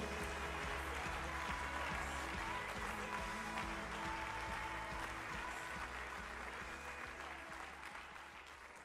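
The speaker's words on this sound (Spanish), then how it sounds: "Dale un aplauso al Señor." A church congregation applauds in worship, a sustained, even roar of clapping over a low musical hum, fading slightly near the end.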